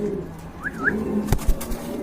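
A black and white pigeon in a loft gives one short, rolling coo, close and clear, followed by a few soft thumps and scuffles.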